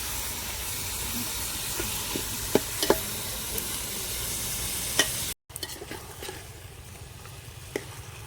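Chicken fries with ginger garlic paste in a pan at an outdoor family farm camp, a steady low sizzle and hiss with a few sharp stirring clinks, ending in a brief cut and a quieter sizzle.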